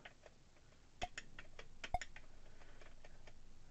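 Fingers typing a name on the small keyboard of a C64 Mini console: a sparse run of quiet, close key clicks with two sharper presses, heard alone in a quiet room.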